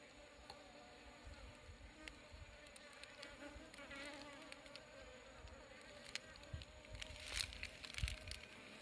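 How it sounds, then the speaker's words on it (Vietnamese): Honeybees buzz at their hive outdoors in sunshine, a constant faint drone of many insects with occasional closer passes of individual bees flying near. "Nghe tiếng ong là đã thấy vui rồi đúng không anh em?"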